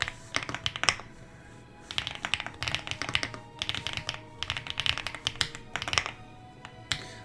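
Fingers type on a Japanese computer keyboard in close, crisp bursts of rapid key taps separated by brief pauses, with no talking.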